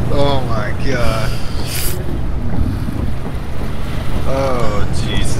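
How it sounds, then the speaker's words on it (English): Loud rushing water in Lethal Company, a constant heavy roar filling the scene while players talk and exclaim over it. "I just turned around and all I hear is the fucking water."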